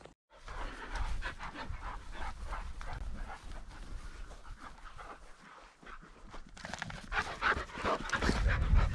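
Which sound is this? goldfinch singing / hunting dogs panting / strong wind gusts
hunting dogs panting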